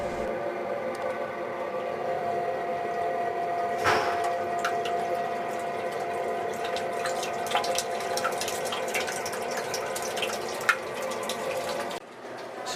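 Water pours and trickles steadily into an aquarium's internal overflow in a cylinder tank, a continuous splashing flow with a pump hum beneath and occasional drips and clicks.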